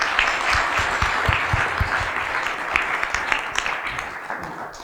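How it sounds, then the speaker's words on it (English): A conference audience claps for panelists and keynote speakers at the close of a panel discussion, a steady wash of mid-sized applause with some sharper individual claps near the front, fading slightly toward the end. "Let's actually give applause to our panelists and the keynote speakers."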